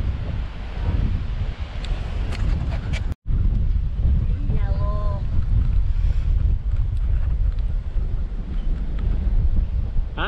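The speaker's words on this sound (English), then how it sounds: "It's really windy" Strong seaside wind at St Annes on the Sea roars and buffets the microphone continuously, a loud steady rush with a brief dropout, while people talk briefly over it.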